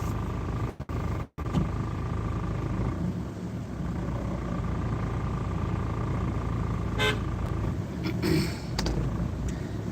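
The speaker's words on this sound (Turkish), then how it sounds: "korna çalmaları araçların" A car horn honks amid steady traffic rumble, with a couple of short toots standing out over the continuous engine noise.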